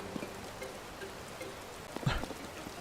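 Light rain falling in the video game Zelda: Tears of the Kingdom, a faint steady patter with a brief louder splash near the end and no speech.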